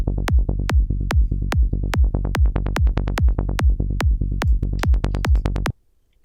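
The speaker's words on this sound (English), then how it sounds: "Usually what you'll have in the break is that you're using a low pass" A low-pass filtered psytrance bassline: dense, rapid rolling bass pulses under a steady kick, loud and upfront, stopping abruptly near the end, with no voices.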